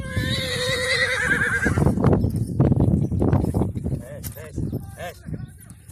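A horse whinnies loudly and close at the start, then hooves clip-clop unevenly while people talk nearby during a horse ride in Abu Arish.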